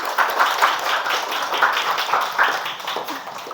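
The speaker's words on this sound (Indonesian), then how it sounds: "Tepuk tangan dulu dong." A sixth-grade class in Indonesia claps together in a classroom, a bright, busy patter of many hands that lasts about three seconds and eases off a little toward the end.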